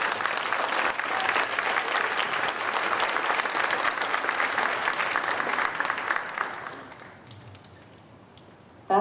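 An audience applauds the accompanists at a high school Christmas choir concert, a dense sustained round of clapping that fades out over the final seconds.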